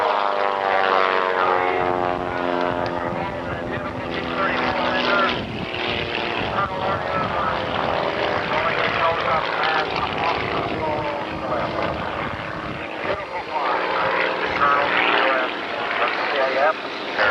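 A propeller aircraft drones past at the 1982 CAF air show in Breckenridge, Texas, a loud sustained engine roar under continuous announcer commentary.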